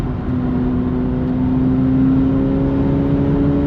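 A McLaren 750S supercar drives a track warm-up lap, its engine note a steady, loud drone with sustained tonal harmonics and a gentle swell in the middle, heard from inside the car with no talk.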